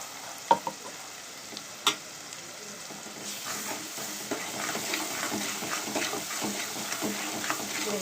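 Fresh ginger paste fries in a pan for an Andhra village-style fish curry, a few sharp clatters first, then a steady, moderately quiet sizzle with light crackles.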